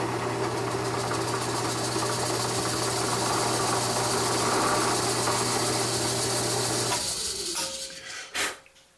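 A drill press runs with a steady motor hum while a 3/8 inch brad point bit bores into wood, enlarging a 1/4 inch hole. The hum cuts off near the end, followed by a couple of brief clunks.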